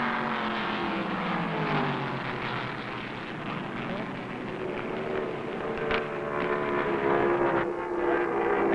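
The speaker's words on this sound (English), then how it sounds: "Now they're running rebel style as Leroy Yarborough presses Cale for the lead in turn 2." Vintage 1969 NASCAR Grand National stock cars roar around a track in turn two, a continuous loud engine drone that swells as the pack races close, with no voices in the clip.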